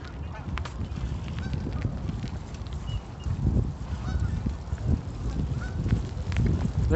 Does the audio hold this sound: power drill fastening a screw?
no